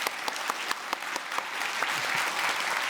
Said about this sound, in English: I'd like to ask you to join me in an applause for Nikai Sensei.